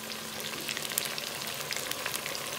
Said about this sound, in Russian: Вот видите, как жарится.